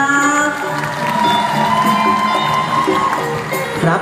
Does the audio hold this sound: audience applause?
yes